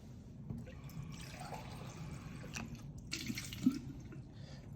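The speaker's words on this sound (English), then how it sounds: "I need to fill this beaker up with water." Water runs from a tap into a glass lab beaker, a soft, steady splashing trickle with a few brighter drips, quiet and close with no voices.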